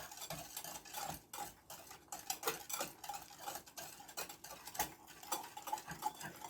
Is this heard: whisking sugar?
yes